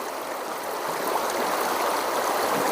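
The Melendiz stream in Ihlara Valley, Cappadocia, rushes in a steady, dense broadband wash of flowing water, close and constant with no voices.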